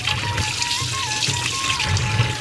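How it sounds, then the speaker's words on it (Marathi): Cleaned Bombay duck fish being rinsed under running water, a steady close splashing and trickling that continues without a break, fairly loud, with no one talking. "ही मी आता डायरेक्टली असं पाण्यातून वॉश करून"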